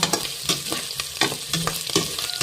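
Aromatics sauté for a pot of black beans, sizzling close up in hot oil while a utensil scrapes and stirs in a quick, irregular rhythm.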